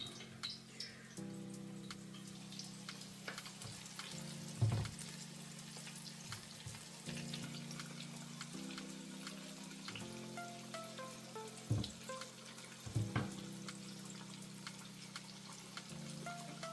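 KFC-style chicken pieces fry in hot oil, a steady sizzling crackle with small bubbling pops and occasional clinks nearby, quiet and continuous with no talk over it.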